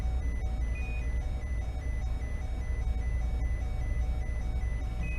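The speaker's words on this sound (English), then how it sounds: "You can press the master alarm button to disable the sound of the alarm." Repeating electronic master alarm tone inside a spacecraft cockpit in the VR space game Interkosmos 2000, rhythmic pulsing beeps over a constant low mechanical hum, steady and fairly loud.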